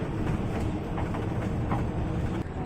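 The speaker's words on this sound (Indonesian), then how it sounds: "Ada kereta tuh lewat tuh." A local Bandung Raya train passing beneath a toll-road bridge near Cileunyi, heard from a bus above as a steady low rumble with faint rhythmic wheel clatter, fairly loud and continuous, no speech.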